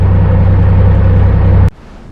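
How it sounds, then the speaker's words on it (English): A boat engine runs loud and steady with a low droning rumble, then cuts off abruptly, leaving near silence. "And here it is, the engine runs."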